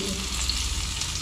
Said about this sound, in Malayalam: ഇതൊന്ന് മൂത്തതിന് ശേഷം നമുക്ക് മീനിട്ട് കൊടുക്കാം.